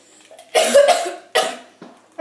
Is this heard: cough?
yes